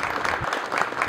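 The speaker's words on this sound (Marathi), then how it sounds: "टाळ्या वाजून त्याचं कौतुक करूया" Brief burst of audience applause at a Marathi book launch event, a room full of hands clapping steadily and fairly close for about a second.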